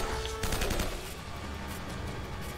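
M4 rifle fire in Uncharted: Drake's Fortune, a rapid burst of loud close gunshots at the start that fades into a noisy rumbling tail.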